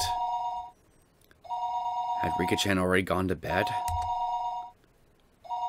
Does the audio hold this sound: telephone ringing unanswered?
yes